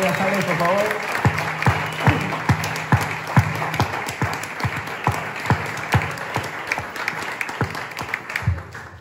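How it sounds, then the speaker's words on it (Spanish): Audience applause for Antonio Catalán at a board game festival gala in Barcelona, a dense crowd clapping with distinct sharp claps throughout, while a voice speaks briefly near the start. "Un aplauso para Antonio Catalán, por favor"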